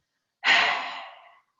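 A single forceful exhale through an open mouth with the tongue stuck out, done as a yoga breathing exercise while seated in a chair. It is a breathy, one-second rush of air that starts suddenly and tapers off, close and alone.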